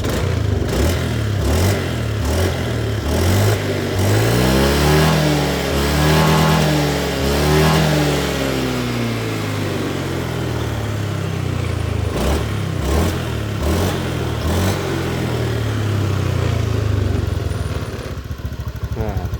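A Honda Beat scooter engine revs after a reset, climbing and falling in pitch through a run of throttle blips before settling into a steady, loud rumble, close by, with talking mixed in.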